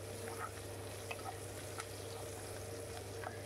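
Onion frying in a pan, a soft, even sizzle with a few faint stirring clicks, quiet and constant over a low background hum, no voices.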